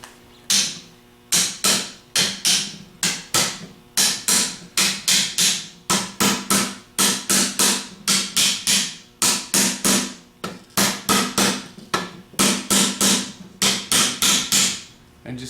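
A hammer taps a stator rectifier assembly down into a Ford 3G alternator during a rebuild, delivering dozens of sharp, close metallic blows in quick bursts with brief pauses between groups, with no speech.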